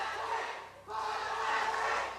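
Arena crowd at an EU LCS regional qualifier final for League of Legends, Fnatic versus H2K, roaring and cheering in a sustained broad wash that dips briefly before surging back loud.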